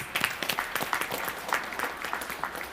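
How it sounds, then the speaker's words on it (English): A temple congregation at a Sunday puja applauds a couple's 25th wedding anniversary with a brief burst of moderately distant, steady clapping. "And let's give them a big round of applause."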